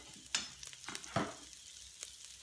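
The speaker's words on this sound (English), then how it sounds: "there's just a little bit of oil left in the bottom of the pan, and I'm going to add some broccoli" Broccoli hits a little oil in a Ninja Foodi pot set to sear high, giving a soft, faint sizzle with a few brief crackling bursts as the pieces go in and are moved around.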